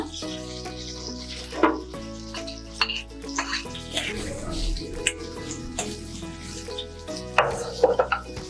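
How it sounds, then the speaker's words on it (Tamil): Onion sautés in oil in a pan with a continuous sizzle and intermittent stirring scrapes, heard over soft background music. "வெங்காயத்தை நல்லா வதக்கிக்கலாம்."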